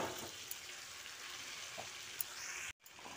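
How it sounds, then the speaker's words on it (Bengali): Fried potatoes tumble into a pan of oil-releasing masala for aloo dum, giving a steady, loud sizzle with a few soft spoon knocks and brief scraping, then a sudden short gap before the frying resumes. "এবার ভেজে রাখা আলুটা দিয়ে দিচ্ছি।"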